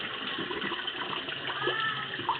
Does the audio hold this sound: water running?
yes